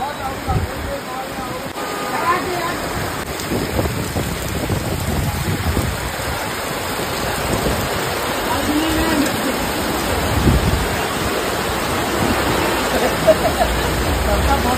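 Heavy rain pours steadily during a sudden windy storm at a shop, a dense continuous roar with voices talking over it throughout.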